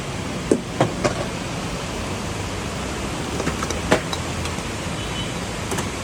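Steady rain pours down as a dense, even hiss throughout, with a few scattered knocks and taps close by; no talk.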